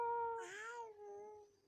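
A voice mimics a cat with one long, sliding meow, close to the listener and clearly voiced, tapering off at the end.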